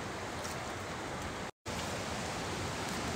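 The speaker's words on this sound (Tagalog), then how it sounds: "Umuulan!" Rain falls in a steady, dense hiss that fills the whole stretch, broken only by one brief cut-out midway.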